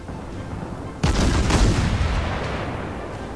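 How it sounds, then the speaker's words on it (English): Naval guns on a World of Warships warship fire 203 mm shells, a sudden loud booming blast that rolls out into a long, fading rumble. "So these are single fire barrels, but they're 203 shells"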